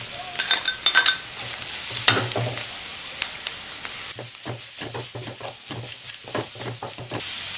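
Grated beetroot sizzles and hisses steadily as it sautés in hot oil in a pan, with repeated stirring scrapes and clinks throughout and no talking.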